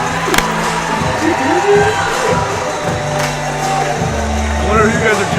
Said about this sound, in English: What are you guys are cheering for?